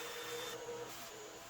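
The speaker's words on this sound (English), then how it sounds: "I'm kind of going around with the vacuum and sucking up the extra dust that packs in there" A shop vacuum runs steadily while it sucks dust out of CNC-cut grooves in a wooden shop sign, giving a continuous loud whooshing whine with slight shifts in pitch as the nozzle moves.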